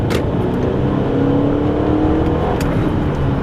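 A 150-horsepower car engine accelerating and revving from inside the car, a steady, close engine drone with a rising tone as the revs climb, heard alone with road noise underneath.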